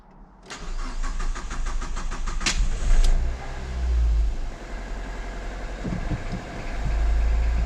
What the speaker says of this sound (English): let's turn on the car.